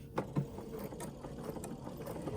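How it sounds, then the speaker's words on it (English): Bernina jumbo bobbin sewing machine stitching, a faint, steady mechanical whir with light rhythmic ticking, heard close and alone. "go ahead and start stitching a little bit."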